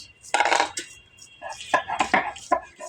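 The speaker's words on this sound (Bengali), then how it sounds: "রসুন বাটা হচ্ছে" Garlic being ground into paste for a traditional Bogura aloo ghati picnic dish, heard as short bursts of scraping and knocking from stone or utensils, close and uneven, with brief pauses between strokes.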